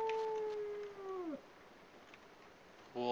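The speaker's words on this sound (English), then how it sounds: "Wolves howling at the moon." Wolves howl at the moon in the game Aidyn Chronicles: The First Mage, one long wavering howl falling away, then quiet ambience before a second howl begins.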